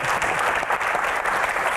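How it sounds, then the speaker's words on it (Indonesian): An audience at a comedy Q&A event claps for a film guest: a full, even burst of applause from a crowd, sustained for nearly two seconds. "Tepuk tangan buat Aco"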